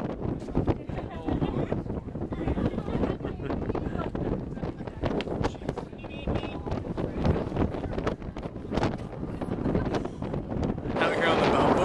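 Strong wind buffets the microphone continuously on Balboa Pier, California, a loud rumbling roar that swells toward the end; a voice can be heard under the gusts.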